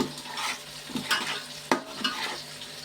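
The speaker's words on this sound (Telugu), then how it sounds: "పచ్చిమిరకాయలు వేస్తున్నాం కదండి" Green chillies go into a hot frying pan with oil and crackle in a bright, close sizzle, broken by several sharp spatula scrapes and stirring knocks against the pan.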